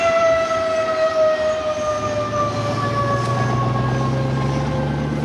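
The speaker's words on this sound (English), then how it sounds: "An air raid siren is still used to mark the noon hour in Hanoi." An air raid siren marking the noon hour in Hanoi wails loudly and steadily, with a sustained tone that slowly bends in pitch, alone and filling the whole stretch.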